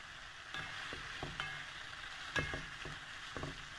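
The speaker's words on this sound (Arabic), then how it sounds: "زي ما انتم شايفين بدنا نقلب" Quick pasta is stirred in a pan, a quiet low sizzle broken by a series of distinct utensil scrapes and taps at an uneven rhythm.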